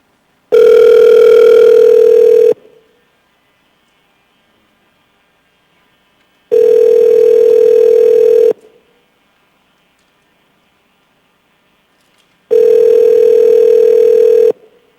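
Telephone dial tone on a phone line while a caller is being connected for testimony at an assembly hearing: three loud, steady tone bursts of about two seconds each, separated by roughly four-second silences, with no voices.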